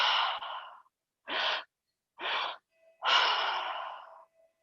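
Slow guided breathwork from a moon circle ceremony: a long breath drawn in, two shorter breaths, then a long open-mouthed exhale, close and soft with quiet gaps between, and no talking.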